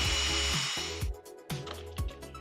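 A handheld power mixer churns one quart of epoxy part B, whirring loudly and steadily with brief dips and revving bursts as it works through the batch.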